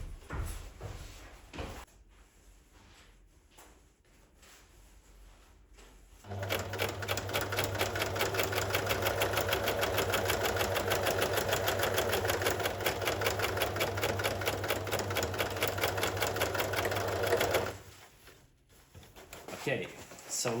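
A sewing machine stitches layered fabric for a protective lathe cover, running steadily and continuously for about eleven seconds with a fast, even motor whir, after a quieter stretch of handling noise.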